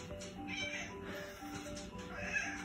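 A pet cat meows indoors in a drawn-out, wavering, plaintive tone, faint and close, repeating across a few seconds with no talking.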